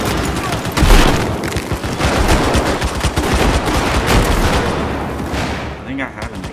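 LMG gunfire in Battlefield 4 on Xbox One: dense, continuous bursts of rapid shots with booming impacts, loud and close, sustained for several seconds before tapering off.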